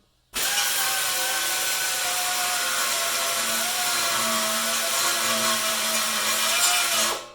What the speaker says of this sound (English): So that's where I switch over to the belt sander